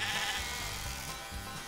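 Sheep on a farm on a hot day, ready for shearing, bleat in a short, steady run of calls over a constant background, with no talking.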